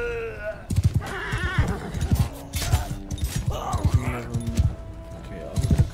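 A horse whinnies and neighs repeatedly amid battle in Mount & Blade: Bannerlord, with clip-clop hooves and clashing combat noise throughout, loud and close, while a player talks over it.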